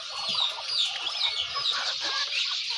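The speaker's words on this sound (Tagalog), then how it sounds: "Ayan ang ating mga bibi." Ducks call continuously from a backyard poultry flock, with overlapping nasal squawks and chatter close by and no speech.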